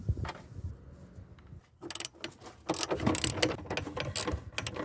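A socket wrench with a 15 mm head unbolts an engine mount from the body of a Ford Focus, giving bursts of rapid metallic ratcheting clicks, close and loud, with brief pauses between runs.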